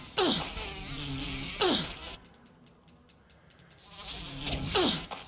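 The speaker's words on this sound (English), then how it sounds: "Yep, they are bees." Bees in the video game Resident Evil give off a droning insect buzz in three loud bursts, each starting with a sharp onset, separated by a quieter stretch of scattered clicks and no talk.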